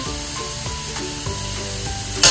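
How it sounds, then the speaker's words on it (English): Pork and garlic fry in a pan with a steady, loud sizzle and hiss, while a utensil scrapes and stirs through the meat in repeated strokes, ending with a sharper clatter. "We fry until the pork is roughly cooked"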